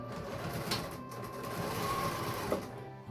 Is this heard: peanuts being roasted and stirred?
no